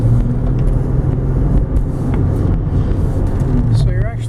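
A 2004 Saturn Vue AWD SUV driving and making a right turn, its steady engine and road rumble loud and continuous from inside the cabin, with a person talking over it.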